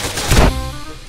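A shotgun fires once in a GTA DYOM SWAT mission, a loud, close, booming blast with a short decaying tail.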